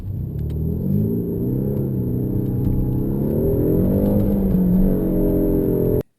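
A car in sport mode accelerating hard, its engine note rising in a steady, loud rumbling whir for several seconds, heard from inside the cabin with no talking, then cutting off abruptly.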